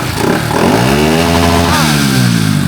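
A Honda Wave 110i motorcycle with a fault code being revved hard, a loud, close engine note climbing and holding high with a throttle jab midway, with someone speaking over it.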